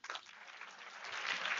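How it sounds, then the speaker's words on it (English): An audience claps for a student at a university orientation event. The applause is brief and faint, and it swells steadily over a second and a half. "Please clap for him."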